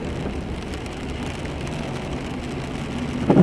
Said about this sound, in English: It's definitely rain.